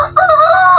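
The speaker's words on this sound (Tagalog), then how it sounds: "Ayun, manok! Bawal to, may anak. Ayun! Ang laking manok!" A rooster crows once loudly in a video game, a short close call starting abruptly and holding a strained tone to the end.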